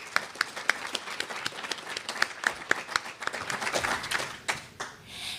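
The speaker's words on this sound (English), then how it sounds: "A round of applause for those people." A crowd claps in a burst of applause, sharp individual claps standing out near the start before the clapping thins and fades.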